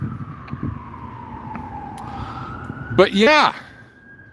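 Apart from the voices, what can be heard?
emergency vehicle sirens passing outside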